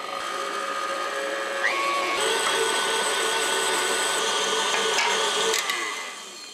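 An electric mixer running at medium speed beats powdered sugar into a brownie topping, giving a steady whirring motor drone that shifts slightly in pitch partway through and eases off at the end.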